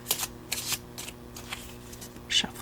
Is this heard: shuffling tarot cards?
yes